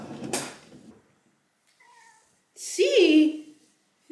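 A house cat meows close by as it waits to be fed canned food in a kitchen, a rising and falling cry near the end, with a person speaking briefly before it.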